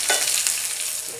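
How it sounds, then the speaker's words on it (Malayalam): Shallots, dried red chillies and curry leaves crackle and sizzle hard in hot frying oil, a bright, dense hiss with brief stirring, loud and close, with no one talking. "കുറച്ച് കരിവേപ്പില ഇട്ട് കൊടുക്കാം. നമുക്ക് നല്ലവണ്ണം മൂപ്പിച്ചെടുക്കാം."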